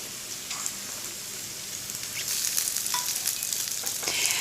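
Spicy Spanish meatballs fry in a pan with a steady, close crackling sizzle that swells louder partway through, dense and continuous with no voices.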